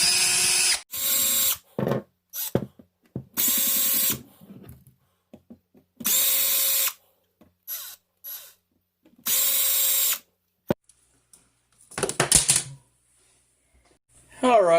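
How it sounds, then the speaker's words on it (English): A power drill backs out the screws of a light switch cover plate, running in several short whirring bursts separated by pauses, with clicks and handling noises between and a clattering, rattling stretch near the end. "I'm going to go ahead and try to knock this out a little quicker with a drill."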